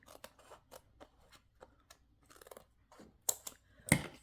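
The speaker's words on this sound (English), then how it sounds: "Let me cut this way because it's still moist." Scissors snip through still-moist fabric while making a junk journal, a series of quiet crisp cuts in an uneven rhythm up close, ending with a couple of louder snips.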